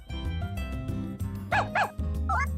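Stray dogs in the farming game Story of Seasons: A Wonderful Life let out a few short barks and yips over steady background game music, two clear bursts near the middle and a quicker yelp at the end.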